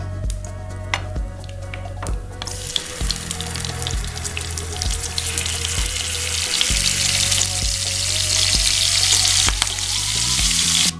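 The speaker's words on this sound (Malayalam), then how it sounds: "ഇനി നമുക്ക് ഓരോ ചിക്കനും ഇതിലേക്ക് ഫ്രൈ ചെയ്യാനിടാം" Chicken pieces fry in coconut oil for a Kannur-style fried chicken dum biryani, giving a loud, steady sizzle that builds and brightens over time, with occasional clinks and low kitchen hum underneath and no talking.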